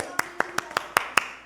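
Six sharp single claps come at an even pace in a classroom, close and distinct against a quiet background.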